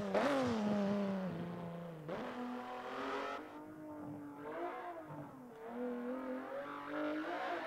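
Cadillac ATS engine in a racing video game, a steady revving drone that climbs and drops with gear shifts and throttle changes, loud and close with no talking.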